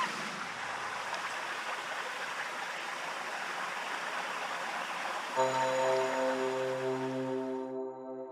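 A small tributary stream beside the Avon River Trail in Bristol runs as a steady, soft rush of flowing water. Near the end, a sustained tonal hum rises over the water before the sound fades away.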